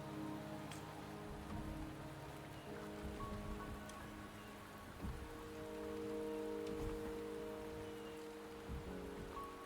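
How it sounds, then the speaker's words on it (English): Rain falling in the video game Wuthering Waves, a quiet, steady patter of drops on surfaces with occasional sharper individual drips over faint background music. "The rain is subsiding, and the sky will soon clear."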